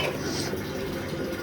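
Water from a borewell pump pouring into a bucket, a steady splashing gush heard at moderate level throughout with faint background noise.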